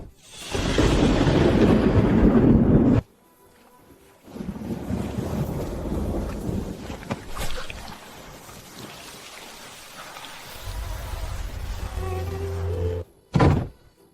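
A heavy rainstorm roars loudly in steady bursts with rumbling thunder and gusts of wind buffeting the microphone, broken by short quiet gaps and a sharp thud near the end; no talking.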